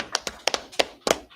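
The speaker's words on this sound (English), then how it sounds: "Clap it up for them." Clapping from a small group at a Sabbath service class, about eight quick uneven claps over little more than a second, close and fairly sharp.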